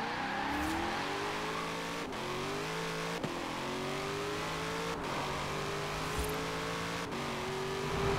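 Corvette ZR1 engine in Forza Horizon 4 revving hard on a motorway, a loud continuous engine drone with rising pitch sweeps repeated through several gear shifts, alone with no talk.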